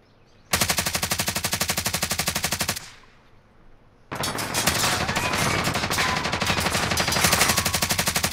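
Rapid automatic gunfire in a video game rings out in a long, dense burst, breaks off for about a second, then resumes in another sustained volley, loud and close, with no talking over it.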